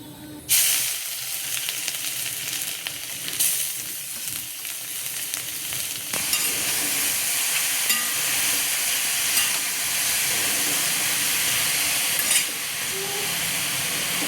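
Grated carrots for carrot halwa fry in ghee, a continuous sizzling hiss that swells after a few seconds and holds steady, with occasional stirring scrapes close by.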